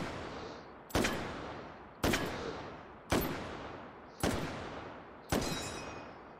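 Five sharp, loud M1 Garand rifle shots in the VR shooter H3VR crack out about a second apart, each followed by a ringing echo that decays before the next shot.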